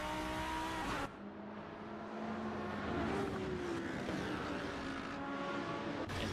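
GT3 race cars in a sim racing game at the Barcelona circuit give off a steady, loud engine drone with shifting pitch, running continuously as several cars race closely together.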